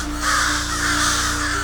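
Crows caw harshly and loudly over a steady hum of background noise, in one continuous close-range burst of calls, with no voices.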